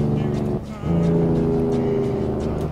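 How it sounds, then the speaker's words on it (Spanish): A Detroit Diesel Series 60 truck engine in American Truck Simulator, driving a 2018 Volvo VNL, sounds as a loud steady harmonic drone that briefly dips and then returns. "traigo el Detroit Diesel. Series 60. Digo, cualquiera reconoce ese sonido."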